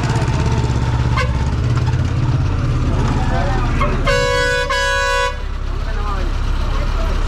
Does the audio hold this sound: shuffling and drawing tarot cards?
no